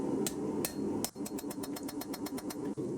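A hammer strikes a small handmade punch to drift a hole through hot rebar being forged into a cross-peen hammer. Sharp metallic blows start slowly, then come in a fast, steady run, close and loud over a low background hum.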